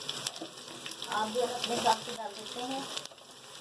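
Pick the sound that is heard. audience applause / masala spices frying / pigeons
masala spices frying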